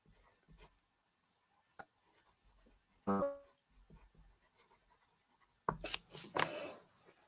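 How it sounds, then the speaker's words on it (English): Handwriting on paper, quiet scratchy strokes in a couple of short bursts separated by near silence, close and faint. "I'm gonna write that down."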